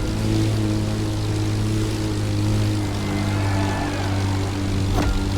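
An aerobatic propeller plane drones loudly and steadily overhead in The Crew Motorfest racing game, a constant buzzing engine hum with a brief sharp transient near the end.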